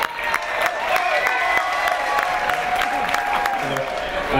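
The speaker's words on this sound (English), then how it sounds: "Big round of applause, everybody!" An audience at an event celebrating a golf course in the Bronx applauds steadily, dense clapping mixed with a few cheers, continuous and fairly loud throughout.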